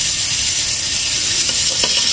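A hamburger patty fries in a hot pan, giving a steady, close, loud sizzle with a bright hiss that holds evenly throughout, with no talking.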